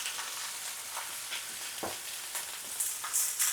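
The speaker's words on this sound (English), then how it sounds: "So we're going to sear these pak choi for 2 minutes" Pak choi sears in a hot pan, giving a steady, close sizzle and crackle that holds throughout, with a few brighter spits of hissing toward the end and no voices.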